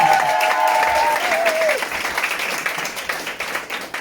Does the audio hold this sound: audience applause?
yes